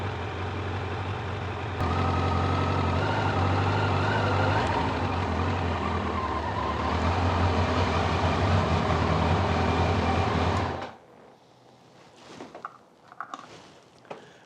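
Kawasaki Concours 1000 motorcycle riding along with a steady, loud engine drone and road and wind rush for about ten seconds, then cutting off to a quiet background with a few faint clicks and knocks.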